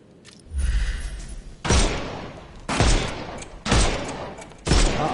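Heavy gunshots blast away enemies' armour in the Sherlock Holmes Chapter One video game, with four loud, evenly spaced booming shots, each followed by a short rumbling decay, after a brief low thud.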